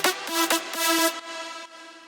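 A bright synth lead for a drop in FL Studio 20 plays a short melodic phrase of punchy stacked notes, loud and upfront, then trails off into a reverb tail.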